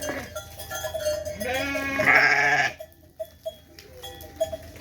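A lamb bleats in a long, wavering cry, loud and close, followed by quieter background rustling and a few soft knocks.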